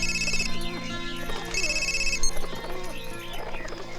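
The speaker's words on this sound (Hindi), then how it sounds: "फोन।" An electronic telephone ringtone sounds in two short bursts, moderately loud, over a busy indoor background of clatter and movement.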